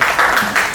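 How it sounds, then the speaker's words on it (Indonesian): Audience applause at an Indonesian campaign-team media event, a dense wash of clapping filling the whole short moment at steady, fairly loud level. "Tepuk tangan dong guys."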